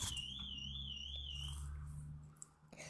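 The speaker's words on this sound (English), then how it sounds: "that sounds like a car alarm" A warbling electronic alarm wails faintly in the distance, rising and falling for a couple of seconds before fading, over a low steady hum.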